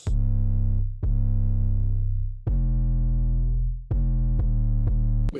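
Gritty 808 bass notes for a hip-hop track, four loud, sustained booming hits with sharp attacks, the later notes shorter and in quicker succession, heard alone with no talking.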